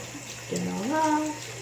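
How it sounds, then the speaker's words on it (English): Tap water runs over hands being rinsed at a sink, a soft close splash that swells midway with a brief rising gurgle, no talk over it. "Let's rinse it off."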